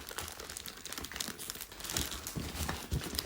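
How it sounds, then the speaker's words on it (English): Plastic packaging for budget trainers being cut open with scissors, giving close, steady crinkling and rustling of plastic with a few sharper snips and crunches, no voices. "So let's crack this open. I have to use scissors because I still don't know how to open a package"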